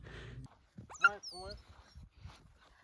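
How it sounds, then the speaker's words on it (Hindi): A playful dog at a rainy, muddy mountain camp in Kyrgyzstan lets out a few thin, high whimpers and whines up close, with soft voices around it. "यार कुत्ता आके हमसे खेलना शुरू हो गया"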